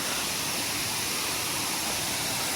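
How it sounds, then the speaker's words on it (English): Bigaho Falls in Palawan roars as a steady, dense wash of falling water, loud and close, with no break and no voices. "Sweet, sweet waterfall."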